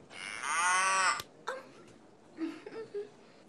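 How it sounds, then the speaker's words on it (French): A cow gives one long, loud, drawn-out moo, followed after a short gap by a few fainter, shorter lowing grunts, with no talk over them. "j'entends meugler"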